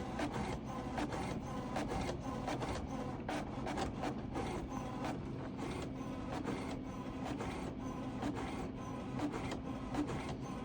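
Vintage HP printer feeding a sheet and printing: a continuous mechanical whir with rapid rhythmic clicks of the print head shuttling back and forth, close and steady throughout.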